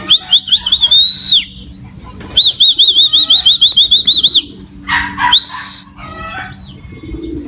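Racing pigeons come down to land, with rapid rhythmic wing flapping in close, loud bursts alongside repeated high whistling tones and some background noise.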